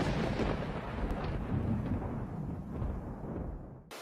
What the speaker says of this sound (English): 1 in 3 people are afraid of thunder, that sudden, loud sound that you don't know when it will come.